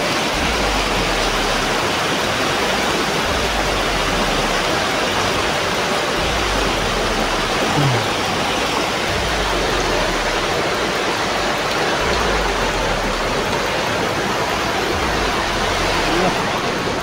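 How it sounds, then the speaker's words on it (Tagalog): Strong water rushes loud and constant nearby, a dense broadband roar from a stream or waterfall that stays unbroken throughout, with low rumbling thumps underneath. "Lakas yung tubig."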